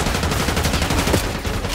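Enemy gunfire in Call of Duty Black Ops 6, a rapid, continuous stream of loud automatic shots close by, steady and dense for the whole stretch, with no talking.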